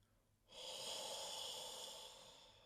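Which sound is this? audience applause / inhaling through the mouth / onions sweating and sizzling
inhaling through the mouth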